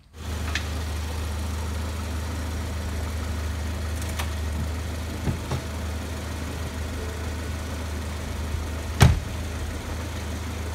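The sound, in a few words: Ford Explorer engine running on test drive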